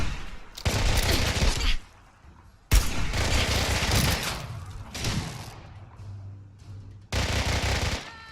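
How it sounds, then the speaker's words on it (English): Loud bursts of automatic gunfire in Fallout 4, several long rattling volleys separated by short lulls, with a sudden heavy blast opening the second burst; no talking. "Why are you shooting at me?"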